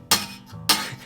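Two quick percussive slaps on a guitar, struck with the soft pad of the finger, each giving a bright, slightly rattly thump with a short ring, close and moderately loud.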